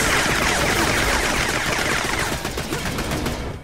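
Sustained rapid gunfire aimed at the Vault guardian in Borderlands The Pre-Sequel video game, a loud continuous stream of shots with a dense rattling texture that eases slightly near the end.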